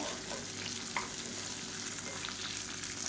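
Small onions with tamarind and a little gooseberry sautéing in a pan for onion thokku, a steady close sizzle of frying with faint stirring, no voices.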